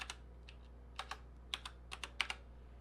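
Keys clack on a computer keyboard as a short command is typed, about nine quick soft taps in uneven bursts, close and quiet over a faint hum.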